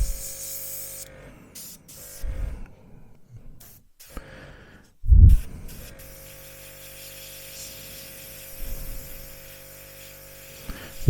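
A Gaahleri SGT-06 airbrush and compressor sputter through short hissing bursts of paint spray, with gaps of near silence and one sharp louder thump midway, then a steady low compressor hum with faint spray.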